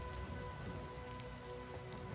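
Steady rain falling in the Total War: Pharaoh strategy game, a continuous hiss of drops with tonal game music humming underneath throughout, no voices.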